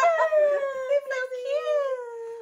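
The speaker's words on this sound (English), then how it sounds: "This is my real dog." A pet dog howls in a drawn-out, wavering cry with whimpering inflections, close and fairly loud, sustained without a break through the moment.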